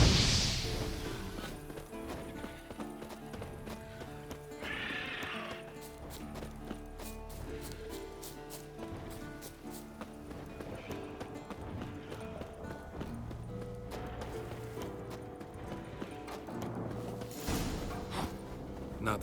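Steady clip-clop of horse hooves plods through the scene in The Witcher 3: Wild Hunt over a layered musical score, with a brief whinny near the start.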